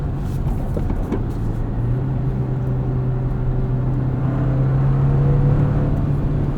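A 2024 Toyota Tacoma pickup with a six-speed manual gearbox drives along, its engine holding a steady low drone with a faint rising tone under broadband road and wind noise, loud and continuous with no talking.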